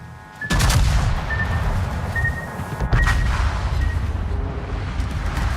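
Torpedoes strike warships in a naval battle game: a heavy boom hits, followed by a second explosion a couple of seconds later, with rumbling detonations and battle noise continuing loudly afterward.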